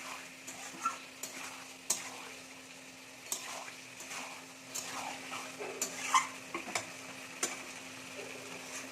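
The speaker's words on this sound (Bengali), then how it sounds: "এটা ভালো করে কষানো কাজ, ভালো করে কষালেই চিকেন কমপ্লিট।" Chicken being stirred and fried in a pan Bengali style, with a steady soft sizzle and irregular scraping and tapping strokes of a spatula against the pan, close and moderately quiet, with no talking.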